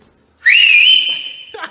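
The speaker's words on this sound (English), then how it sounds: "I whistle really loud now" One loud, piercing whistle held for about a second, slightly falling off at the end, close by in a city park, followed by a brief murmur.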